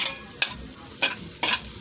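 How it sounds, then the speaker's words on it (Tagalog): Garlic, ginger and onion sauté in a little oil in a pan, a steady close sizzle broken by three brief scraping stirs of the utensil. "Ginisa ko na guys yung bawang sa kaluya at sibuyas."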